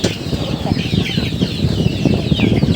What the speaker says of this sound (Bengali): তো একটা মোরগ ওয়েট দিয়ে দেখাচ্ছি আপনাদেরকে